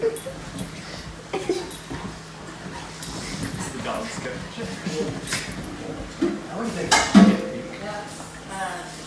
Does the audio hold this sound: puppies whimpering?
yes